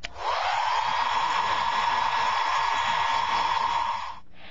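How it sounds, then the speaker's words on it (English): A handheld blow dryer switches on and runs for about four seconds with a steady, loud whooshing airflow and a thin motor whine, then cuts off abruptly. "Blow dryer."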